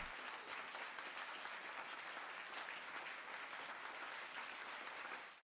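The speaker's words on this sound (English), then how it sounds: "Let's do a round of applause for you." Sustained, dense applause from a crowd, even and full for several seconds before cutting off abruptly.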